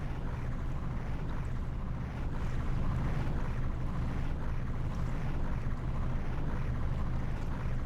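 A large ship under way in the video game Professional Ships Simulator gives off a steady low engine drone mixed with wind and water wash, continuous and fairly loud with no talk.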